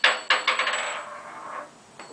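A silver coin is dropped on a hard surface. It gives several quick bouncing clinks close by, then rings on with a bright, fading tone.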